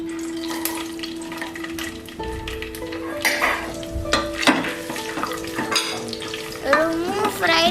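Chopped coconut frying in hot ghee for bamboo rice payasam, a steady close sizzle and crackle with occasional stirring clinks of a utensil against the pan.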